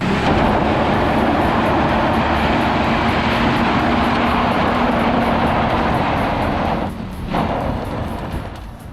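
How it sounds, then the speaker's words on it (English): A turbocharged truck on a test drive attempts a burnout on gravel, a loud continuous engine roar with steady broadband rumble and tire noise that dips briefly near the end, no talking. "we'll see if it can do a burnout on gravel"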